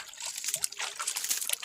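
Water is sprinkled lightly by hand onto garden plants in Jamaica, a close, soft patter and trickle of droplets hitting leaves and soil for a moment.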